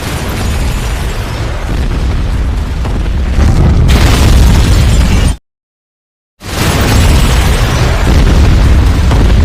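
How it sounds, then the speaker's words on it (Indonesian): A loud, roaring blast with heavy low rumble swells and surges, cuts abruptly to silence, then the roaring burst returns at full strength. "mobil yang dikendarai Stephen tiba-tiba meledak"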